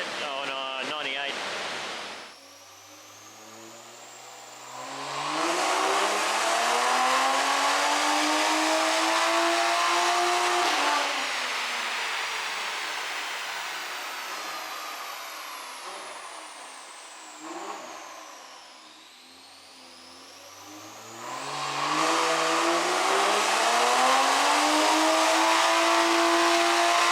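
HKS-built Toyota Supra, stripped out, revving hard on a dyno: repeated rising engine sweeps climbing to a loud roar, dropping back to idle, then surging again in a long pull, loud and close.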